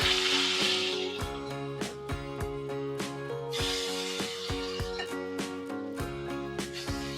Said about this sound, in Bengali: আমি সেকেন্ড রাউন্ড ভাজার জন্য আরেকটু তেল দিয়ে নিচ্ছি। এবার আমি নেক্সট বার দিয়ে দিচ্ছি।